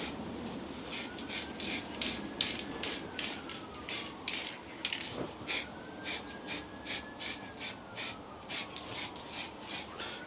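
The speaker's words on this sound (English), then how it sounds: "So that's it guys, just light little sprays." Light dusting coat of spray paint applied to a Land Rover Series 3 during restoration: a string of short, regular spray bursts, close and moderately quiet, with no talking.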